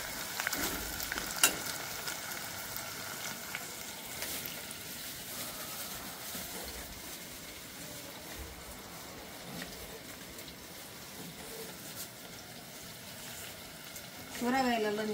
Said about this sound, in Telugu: బాగా ఫ్రై చేసుకోవాలండి తాలింపు